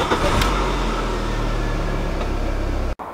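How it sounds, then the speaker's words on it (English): A Volkswagen Golf Mk3 engine idles with a steady, even mechanical drone, close and continuous. Near the end it briefly cuts out, then returns. "Gonna let this car idle for about 10 or so minutes"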